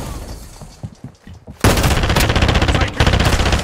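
Rapid automatic gunfire erupts in Call of Duty after a quieter stretch of scattered thumps. The sustained loud bursts rattle on to the end.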